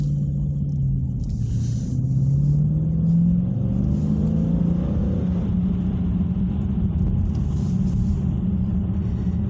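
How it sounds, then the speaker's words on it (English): A car engine in eco mode hums with a steady, moderately loud exhaust note, rising gently in pitch as it accelerates, no voices present. "The exhaust note is actually still good in eco mode."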